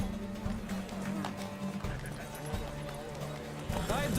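Horses gallop at the start of a race in The Witcher 3, with fast drumming hoofbeats mixed into the game's music and ambience, while voices speak over the action.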